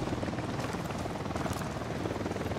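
A helicopter in Call of Duty thrums continuously with rapid rotor chop and engine roar, loud and close, with a voice faintly under it.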